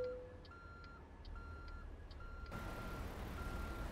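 Truck reversing alarm in American Truck Simulator, a faint, evenly spaced series of beeps over a low engine rumble that grows louder toward the end.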